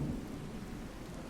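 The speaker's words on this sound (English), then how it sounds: "Just want to get the storm out of the way." Rain falls steadily over low rolling thunder during a storm in the video game Fallout 4, a dense, continuous wash with no voices.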